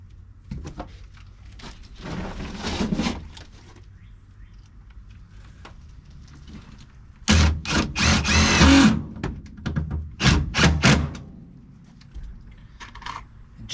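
A self-tapping screw is driven into the interior of a 1959 Plymouth project car, with bursts of whirring and grinding from the driver and metallic scraping, loud and close, separated by quieter pauses.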